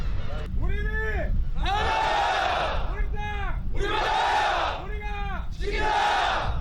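Naval academy cadets shout slogans together in loud, rhythmic bursts from a massed group outdoors, with brief pauses between each chanted phrase.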